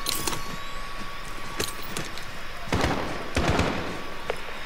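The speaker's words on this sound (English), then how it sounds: "Shot fired." Sharp gunshots from a modified rifle in Call of Duty Modern Warfare, several distinct cracks spaced irregularly, with a couple of louder, heavier blasts near the end over a faint steady hum.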